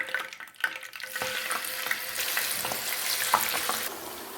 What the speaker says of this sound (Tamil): எண்ணெய் நல்லா சூடாகிட்டு இந்த டைமில் நம்ம சிக்கன் துண்டுகளை அதோடு சேர்த்துக்கொள்ளுவோம்